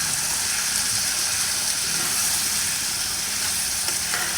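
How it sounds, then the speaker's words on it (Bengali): Potatoes and tomatoes frying in a pan make a loud, even, continuous sizzle heard up close, with stirring faintly rasping through it and no talking. "আমি আলু আর টমেটোটাকে একটু ভালো করে কষিয়ে নিচ্ছি"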